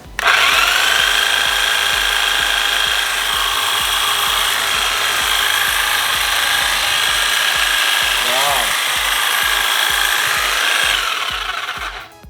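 An electric hedge trimmer runs off a portable power bank with a loud, steady buzzing whine throughout, starting abruptly and winding down near the end; a voice speaks briefly over it.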